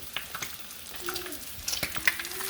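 Eggs sizzle in a frying pan with a quiet, steady crackle, scattered pops and spits breaking through the hiss, close and without talk.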